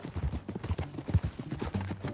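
Horse hooves clip-clop at a steady trotting rhythm in Red Dead Redemption 2, close and continuous, with the soft clatter of tack around them.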